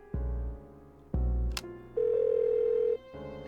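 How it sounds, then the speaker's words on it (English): Phone dialing in the video game Persona 3: two low thuds, then a short bright blip and a steady one-second keypad or ring tone, close and clean with no talking. "suddenly stood up and dialed a number"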